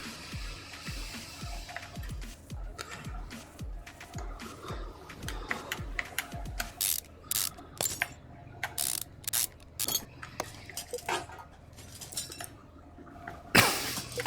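Rapid ratchet clicking from a virtual socket wrench removing brake pads and car parts in Car Mechanic Simulator Pocket Edition on Nintendo Switch, coming in quick bursts with short pauses between them, close and clear with no talking.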